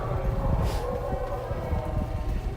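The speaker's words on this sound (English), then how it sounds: "Oh, I think my train is right here." A train pulling into a New York City station near the Brooklyn Bridge, a loud rumbling roar with screeching wheels and a steady mechanical drone, captured close in a busy setting.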